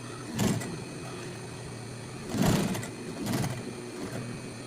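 Sewing machine stitching a pocket onto a backpack, a quiet steady mechanical whir with a few louder rumbling surges of faster stitching, heard close with no voices.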